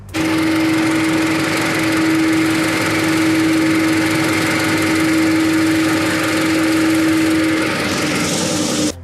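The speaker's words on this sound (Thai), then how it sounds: "เดี๋ยวผมจะถ่ายเสียงเครื่องเพื่อนๆฟัง" A Toyota Camry ACV41 engine idles steadily and loudly nearby, a constant droning hum with a faint whine, holding level throughout.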